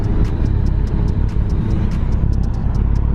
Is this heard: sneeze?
no